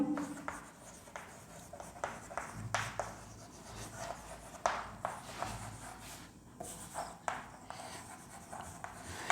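Chalk or marker writing on a board during an introductory chemistry class lecture, with repeated short scratchy strokes in irregular bursts, close and moderately quiet, with no talking.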